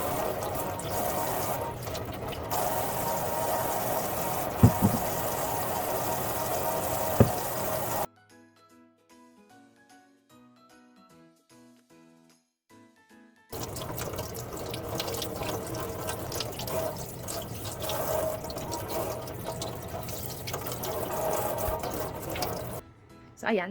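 Eyeglasses are washed with dishwashing soap under a running kitchen tap, a steady close stream of water that stops for several seconds and then resumes with splashing and handling.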